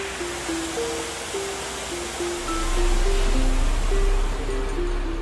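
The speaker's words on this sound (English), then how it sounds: "opening the pedals now that will let the sluices come up and the water flow in" Water rushes through raised sluices into a canal lock chamber at Bath, a steady broadband roar that swells and deepens partway through, with a steady low tone running over the top.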